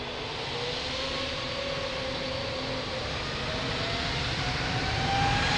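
An aircraft takes off from runway 02 at Lisbon Airport, its engines giving a loud, steady roar that slowly builds over the whole stretch.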